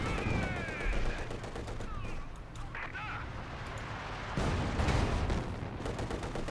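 Company of Heroes 2 battle between German and Soviet forces, with dense gunfire and machine-gun bursts crackling continuously and a heavier boom near the end, under the game's ambient noise.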